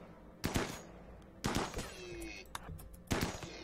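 Gunfire from colonists hunting swamp animals in RimWorld: three distinct bursts of shots spaced about a second apart, moderately loud against quiet background.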